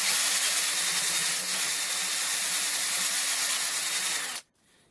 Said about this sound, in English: So I'm going to keep drilling this out.